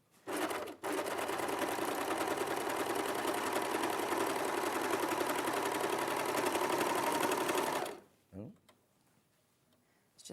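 An overlocker runs steadily for about seven seconds, sewing a seam close to the stitching, then stops abruptly and leaves a couple of short clicks and quiet handling sounds.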